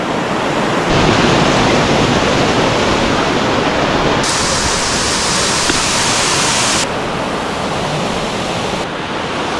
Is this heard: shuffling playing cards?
no